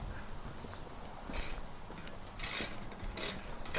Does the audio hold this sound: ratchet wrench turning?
yes